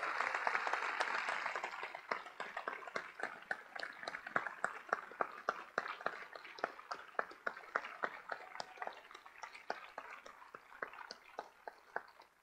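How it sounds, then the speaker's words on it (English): An audience applauds after an astronaut debrief for Expedition 54/55, opening as a dense burst of clapping that thins into scattered individual claps and gradually fades. "Let's have a big round of applause for this cruise and for all the people on the ground that do the work."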